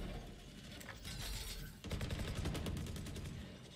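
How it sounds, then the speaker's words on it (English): A Valorant swarm grenade deploying in a video game: a dense mechanical ratcheting burst followed by a rapid volley of crackling pops, loud and continuous. "Placing swarm grenade. Swarm grenade out."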